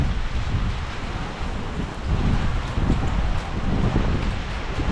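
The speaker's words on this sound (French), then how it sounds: "quand il y a des typhons et des rafales de vent à plus de 120 km/h" Typhoon wind gusts in Yamato, Japan roar and buffet against the microphone in a steady, rumbling rush, with no one speaking.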